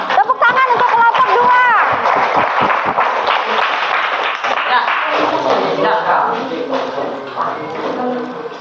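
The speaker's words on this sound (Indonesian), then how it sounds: "kita beri tepuk tangan untuk kelompok" A classroom of students claps for a group that has just presented, a dense burst of hand claps mixed with chatter and voices that fades into murmuring talk.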